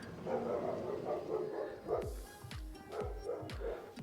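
A neighbor's dog barks in short repeated yips outside a custom ranch home in Aledo, Texas, several sharp barks at moderate distance under steady background noise.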